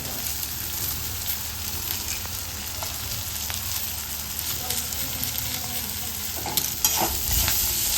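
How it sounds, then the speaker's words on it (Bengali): Onions and chopped green chilies fry in a pan, a steady close sizzle with faint stirring scrapes throughout and a louder burst near the end. "পেঁয়াজটা লাল লাল করে ভেজে দিয়েছি"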